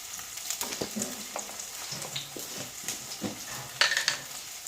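Crushed ginger and garlic sautéing in a pan in a home kitchen, giving a steady close sizzle with scattered stirring scrapes and light clinks of a utensil, with no voices.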